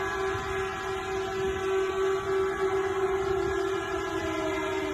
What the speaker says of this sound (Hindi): सायरन की आवाजें किसी रिफाइनरी से आ रही है।